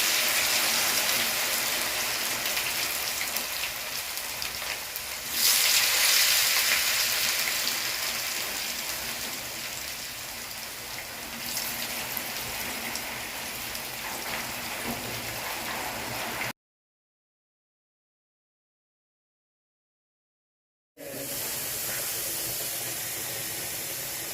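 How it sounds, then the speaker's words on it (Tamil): Cassava pieces deep-frying in hot oil for a Jaffna-style fry, a steady dense hiss and crackle that surges louder at moments, cuts out briefly to silence, then resumes. "அடுத்ததாக வந்து நாங்கள் மரவள்ளி பொரியலை பொரிப்போம்"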